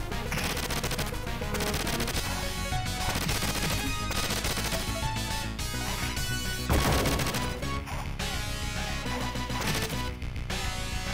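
Enemy gunfire in the 1989 Teenage Mutant Ninja Turtles arcade game, buried in a dense, loud mix of music and fighting effects that runs without a break, with one sharper burst near the middle.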